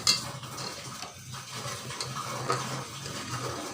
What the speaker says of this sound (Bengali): দিয়ে অনবরত নাড়তে থাকবো যাতে তলায় লেগে না যায়।